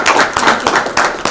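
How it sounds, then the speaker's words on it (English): A small audience at a press meet applauds Preeti Jhangiani, with quick hand claps that swell in a few uneven waves over a short, close burst. "So a big round of applause for Preeti."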